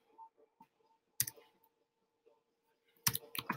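Typing on a computer keyboard while entering HTML code, with a few faint isolated clicks and then two short bursts of sharper keystrokes, close and quiet with no talk.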